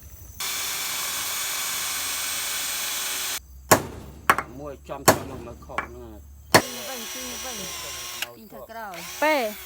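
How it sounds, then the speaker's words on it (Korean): A power drill bores a hole on a farm in Cambodia. It runs loud and close for about three seconds, then stops abruptly, and people talk and laugh afterward. "먼저 드릴로 구멍을 뚫고 못을 박을 거예요"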